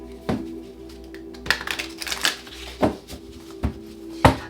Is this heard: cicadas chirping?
no